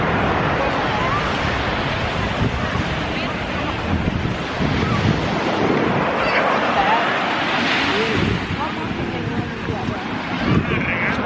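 Ocean surf rolls steadily onto a beach in Cancun, Mexico, a loud, continuous wash of breaking waves mixed with wind buffeting the microphone, with faint voices in the background.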